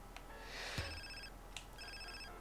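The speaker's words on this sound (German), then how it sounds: "Also, der obligatorische Telefonanruf." A mobile phone ringtone in GTA San Andreas plays as repeated electronic chime bursts, two ringing phrases separated by short pauses, clear and moderately loud with no voices over it.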